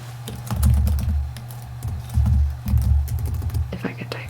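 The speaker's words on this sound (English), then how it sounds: "If I could type my password correctly" Password typed on a computer keyboard, with light, scattered key taps heard under soft, close, quiet speech.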